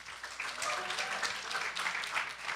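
A scattered audience at a summer intern and creative networking event claps for a panelist being introduced, the soft, uneven patter sounding somewhat distant.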